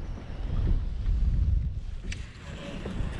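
Strong wind buffets the microphone in heavy low rumbling gusts at a fishing spot, with a faint watery wash underneath and no talking.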